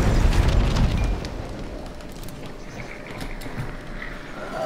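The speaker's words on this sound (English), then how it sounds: "I'm gonna throw a high bomb in the back up there." A thrown bomb explodes in the video game Hunt: Showdown with a loud, deep blast at the start, then a long rumbling tail of debris and crackle that fades gradually.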